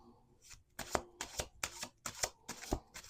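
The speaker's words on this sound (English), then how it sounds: "we're going to do one more shuffle here" Tarot cards riffle-shuffled at close range, six crisp bursts of flicking card edges each ending in a soft tap, in a quiet room.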